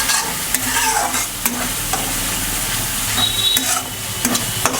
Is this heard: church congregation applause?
no